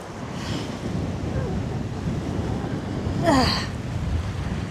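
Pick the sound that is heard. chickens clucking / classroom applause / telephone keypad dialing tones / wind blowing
wind blowing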